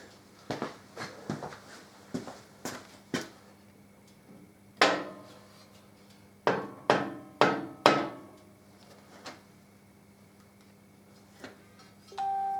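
Sharp nylon tapping stick strikes on a Harley Davidson Deuce trike conversion, a quick run of light taps followed by a few louder, resonant knocks, then sparse single taps, close up with no talk.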